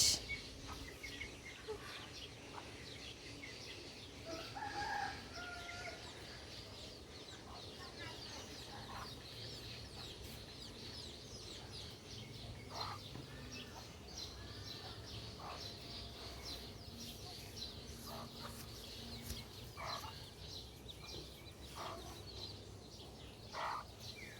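Chickens cluck and call around a village home, short calls recurring at irregular intervals over a steady outdoor background, fairly distant and moderate in level.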